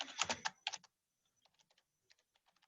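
Keys clatter on a computer keyboard at a kitchen table: a quick burst of close, crisp clicks, a short pause, then lighter, sparser taps.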